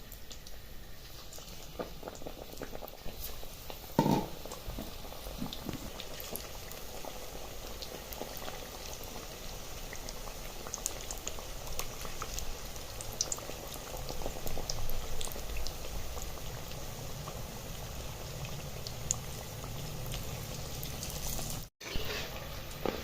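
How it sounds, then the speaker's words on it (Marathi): Potato bhaji fritters deep fry in oil, making a continuous close bubbling hiss that holds steady for the whole stretch, with a brief clink early on and no voices. "दुसरी बॅच सुद्धा तळून घेणार आहोत"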